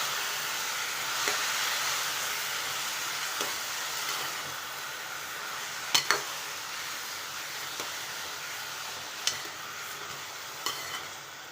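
Eggplant pieces coated in ginger paste, turmeric and salt cook under a lid in a pan for a gravy-style eggplant curry, giving a steady, close hiss of sizzling with a few sharp clinks scattered through.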